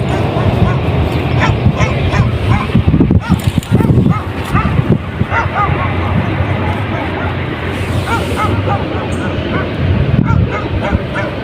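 A Pakistani bully dog barks in repeated loud yips and woofs close by, with some whimpering, while people talk over it outdoors in a strong wind.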